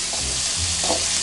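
Pindang, boiled salted fish, frying in a pan with a steady broadband sizzle and faint stirring scrapes, close and continuous throughout with no talking.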